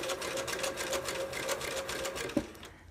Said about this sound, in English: I was just stitching around the insides of the ears